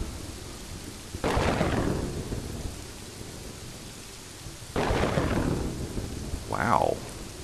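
Rainstorm in the medieval city-building video game Kingdoms and Castles, with steady rain hiss broken by two loud thunder crashes that roll off slowly and a shorter rumble near the end, no talk.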